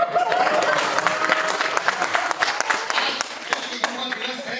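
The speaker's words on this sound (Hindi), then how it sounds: "तालियां" Audience clapping at a live comedy-style show, a dense burst of claps that stays strong and then thins slightly toward the end, with a few voices mixed in.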